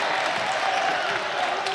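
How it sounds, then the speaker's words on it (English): Spectators at a youth basketball grand final, a U19 national championship game, applaud steadily in a dense, continuous wash of clapping with light crowd noise underneath. "Crowd's really getting behind Canterbury."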